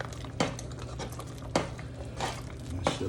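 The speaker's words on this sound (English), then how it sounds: "And now I'm gonna stir this in right quick." A spoon stirs a tomato, corn and okra mixture in a pot, with several distinct scraping clinks against the metal spaced a second or so apart over a low background hum.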